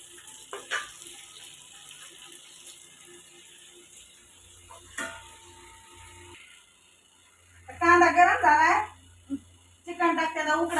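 Onion dropped into hot oil in a home kitchen while cooking chicken curry: quiet clinks and a faint hiss early on, then bursts of loud crackling sizzle near the end, with someone speaking in between.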